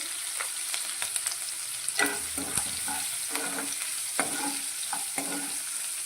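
Dried red chili, a small bay leaf, green chilies and asafoetida fry in hot oil, a soft steady sizzle broken by repeated scraping stirs of a spoon in the pan, with no talk.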